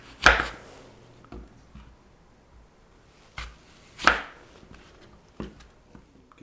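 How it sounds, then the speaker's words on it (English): A knife chops through apples with the skin on against a cutting board, giving a few distinct sharp cuts with pauses between them. "first thing we're going to do is cut the apples"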